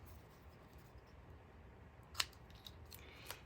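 Paper being trimmed with scissors, a few faint close snips and a sharp cut near the end against a quiet room, no talk.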